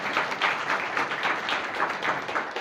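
A church congregation claps during a Sunday service, a steady, fairly faint patter of many hands with a loose rhythmic pulse throughout.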